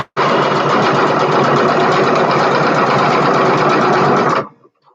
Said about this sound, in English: And I'm actually going to go ahead and do all this stitching.